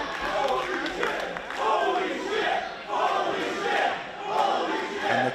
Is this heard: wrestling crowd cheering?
yes